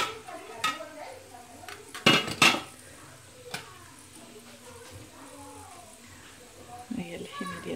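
A metal cocotte pressure cooker holding meat is opened after about 35 minutes of cooking, with metallic clanks of the lid and pot, a loud clatter early on and then quieter handling and rattling.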